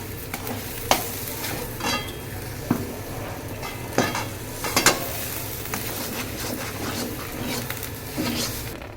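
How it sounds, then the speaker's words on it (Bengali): Lentil paste is stirred in a pan to dry it out, a spoon scraping and tapping the pan in irregular strokes over a soft continuous sizzle. "ডালটা একটু নাড়িয়ে শুকনো শুকনো করব"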